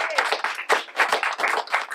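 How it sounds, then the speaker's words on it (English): Clapping from a small audience at a community library gathering, uneven bursts of hands close by, rising and dipping in waves rather than a smooth roar. "Let's give them a round of applause."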